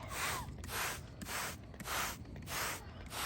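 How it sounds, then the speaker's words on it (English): Rhythmic bursts of a pump sprayer misting potato plants against powdery mildew and pests, about six evenly spaced hissing sprays, close by with no talking. "I'm gonna go ahead and spray it"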